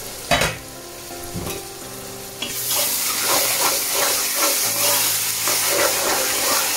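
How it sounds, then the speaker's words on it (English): Onions frying in a pot for a traditional lamb chop bhuna. After a couple of clattering knocks, a loud, steady sizzle and hiss swells up with stirring scrapes, heard close with no talk. "Now I'm going to close the lid and let it cook the onion, but make sure guys you to stir it occasionally, otherwise you might burn."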